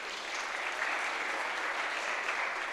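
Steady audience applause at a crypto conference main stage in Warsaw, a dense, even wash of clapping that holds for about three seconds with no voices over it.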